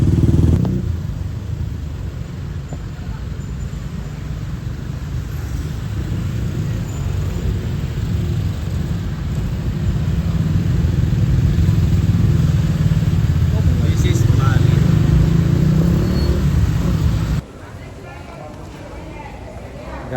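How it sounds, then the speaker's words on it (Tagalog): Heavy midday traffic in Bali, with motorcycles and cars rumbling steadily past at close range, loud and constant, and engine noise building before it drops off near the end. "Sobrang traffic, guys."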